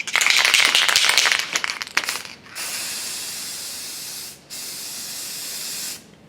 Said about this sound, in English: I like the feel of this Krylon paint. Really comes out.